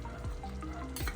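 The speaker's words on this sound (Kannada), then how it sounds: "ಇವಾಗ ಹಾಕ್ಬಿಟ್ಟು ಇದನ್ನು ಚೆನ್ನಾಗಿ ಮಿಕ್ಸ್ ಮಾಡ್ತೀನಿ" Cashew chicken gravy with capsicum, tomato and green chilli hisses in a frying pan as a spoon stirs it. The brief, close sizzle has soft scraping strokes.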